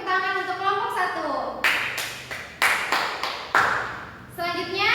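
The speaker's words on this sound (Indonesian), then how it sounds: "silakan beri tepuk tangan untuk kelompok 1." A classroom of students claps for a student group after its presentation: a few seconds of loud, uneven group clapping, with a teacher's voice speaking just before and right after.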